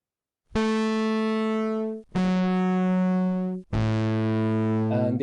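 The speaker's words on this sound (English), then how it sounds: "This is the sound of the real analog tube amplifier." Audio played through a real analog tube amplifier: three sustained harmonic-rich tones, each ringing for about a second and a half before a short gap, bright and buzzy with overtones, no voices.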